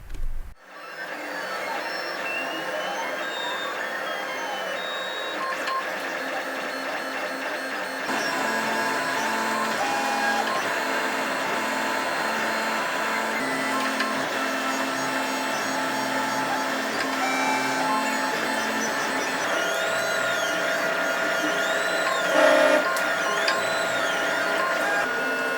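A 3D printer prints BB-8 droid side-panel parts with a steady mechanical whine, its stepper motors adding shifting tones and warbles that run unbroken and close, with a slight jump in level partway through.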